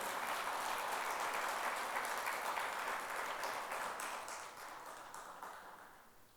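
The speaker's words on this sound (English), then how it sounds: "please join me to welcome with huge round of applause the fit gentleman" An audience gives a big round of applause to welcome a chartered accountant guest speaker onto the stage, a sustained, distant-sounding wash of many hands that gradually fades out over several seconds.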